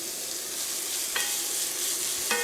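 Onions frying in a pan for marinara sauce, a steady loud sizzle with two brief scraping stirs near the middle and end.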